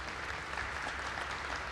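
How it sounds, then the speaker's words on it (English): An audience claps steadily at a live glassblowing hot shop event, a dense even wash of applause with no voices standing out. "Can we give him a round of applause?"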